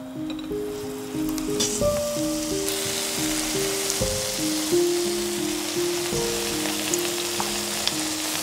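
Egg batter cakes deep-fry in hot oil with a continuous close, crackling sizzle, while steady melodic tones of background music run underneath.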